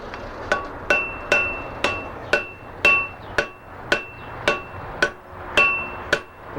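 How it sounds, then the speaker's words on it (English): Hammer blows ring out while a pattern-welded steel bundle is forge welded, about a dozen sharp metallic strikes at a steady, unhurried rhythm, each decaying before the next, loud and close with no talking. "Now I'll do the final weld."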